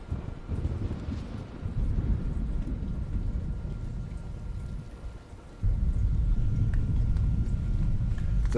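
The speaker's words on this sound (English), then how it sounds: "The thunder sounds and the noises and everything they make are so fucking satisfying." Thunder from the video game Fallout 76, in Skyline Valley, rolls as a continuous deep rumble that dips briefly and then swells louder again.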